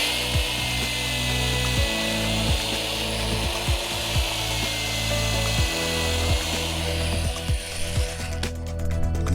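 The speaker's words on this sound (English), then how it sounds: "I'm drilling pilot holes for my screws." A power drill bores pilot holes into wooden bed slats inside a Chevy Astro camper van. The motor whines in repeated short bursts, each spinning down with a falling pitch. The drilling is close and steady, and no one speaks.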